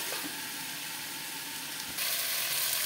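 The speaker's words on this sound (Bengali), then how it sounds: "দেবো অল্প হলুদ, একটু ঢাকনা দিয়ে ভাজবো।" Vegetables with radish pieces and a little turmeric fry in a pan under a lid, giving a soft, steady hiss and sizzle that turns slightly louder and brighter near the end.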